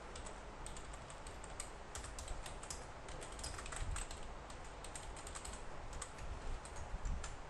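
HTML code being typed on a computer keyboard, a quick continuous run of close, soft key clicks with no pauses and no voices.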